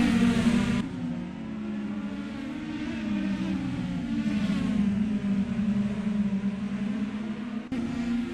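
IndyCar race cars racing at Mid Ohio, a continuous engine drone with gliding pitch as revs rise and fall, the tone shifting abruptly as cars pass, sounding near and steady.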